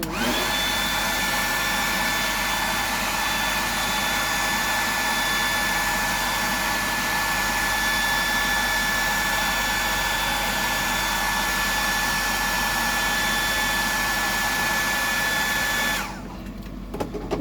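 A hair dryer blows steadily and loudly, drying paint on a 100mm Sammy fishing lure, its constant roar running without a break until it cuts off near the end.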